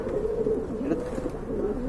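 Soft, continuous low cooing from a pigeon, close by, with a steady murmuring rhythm throughout.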